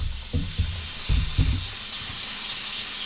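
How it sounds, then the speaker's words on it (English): Steady hiss of steam venting from the weight of a pressure canner while carrots are being canned, a constant airy rush with a few low clunks and knocks near the start. "See how the weight is starting to steam and spin around?"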